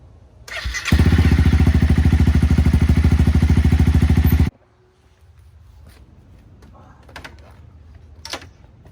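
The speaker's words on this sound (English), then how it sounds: "I'm going to turn the bike on and try to clutch in and start the bike" A Honda CBR300R motorcycle engine cranks and fires, running loud and steady at close range for several seconds before cutting off abruptly, leaving faint clatter and handling noises behind.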